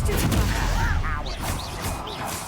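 A Confringo spell in Hogwarts Legacy lands with a burst of crackling, impact-like blasts, followed by whooshing magical effects under game sound.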